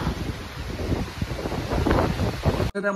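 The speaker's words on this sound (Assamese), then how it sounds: "এইপিনে পুৰা বতাহে বতাহ" Strong wind gusting across an open river valley in Arunachal Pradesh, a steady broadband rush with buffeting against the microphone that cuts off abruptly near the end.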